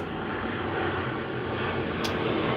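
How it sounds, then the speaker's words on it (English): A plane passes overhead as a steady, broad engine roar that fills the whole stretch at fairly close range, with a brief higher hiss near the end and no talk. "Yeah, plane overhead."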